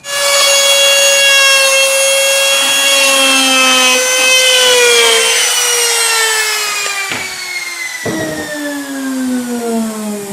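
A router with a 6mm cutter bit cuts a hinge recess in a wooden door using a jig, a loud high whine sliding slowly down in pitch with scraping bursts of chips, continuous and close.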